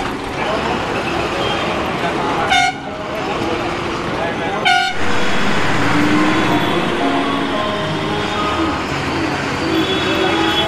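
A NBSTC Rocket bus rolls through dense Kolkata traffic near Sealdah station, with a steady engine and road roar, two sharp horn toots breaking through, and voices talking over the busy street noise.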